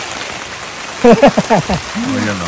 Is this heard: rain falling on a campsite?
yes